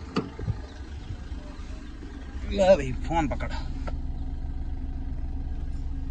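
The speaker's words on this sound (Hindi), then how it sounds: "इंजन देख को आवाज़ सुन तो डीजल 2015 मॉडल की गाड़ी है।" A 2015 diesel Maruti Swift's engine idles with a steady, close low rumble throughout, while someone speaks briefly near the start and another voice cuts in over it midway.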